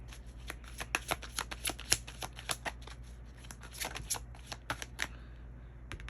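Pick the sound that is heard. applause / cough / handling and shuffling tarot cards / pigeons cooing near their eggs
handling and shuffling tarot cards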